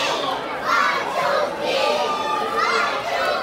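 A crowd of parents and children shouts at a company family day, a loud sustained roar of mixed voices swelling and cheering together outdoors.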